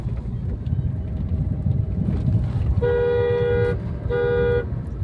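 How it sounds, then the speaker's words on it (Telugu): A car horn gives two honks, a longer one and then a shorter one, during a driving lesson, over steady road and engine rumble inside the moving car. "హార్న్ ఎంత కొడుతుంది మంచిది"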